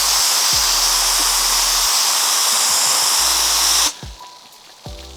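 An RM Suttner ST75.2 long-cast foam lance sprays chemical in a loud, steady hiss with bursts of spray, then drops to a quieter, thinner spray followed by another short burst.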